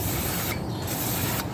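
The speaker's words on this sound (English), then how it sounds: "spray her with some PB Blaster" PB Blaster penetrating oil hisses steadily from an aerosol can onto a car's tie rod end in two long, loud, continuous bursts with a brief dip between them.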